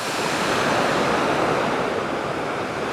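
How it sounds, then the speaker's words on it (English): Steady broadband roar of sea surf and falling water at Sojeongbang waterfall on Jeju's coast, continuous and close with some wind buffeting on the microphone, no voices. "I'm just getting the sea spray, the waterfall spray, spraying on me"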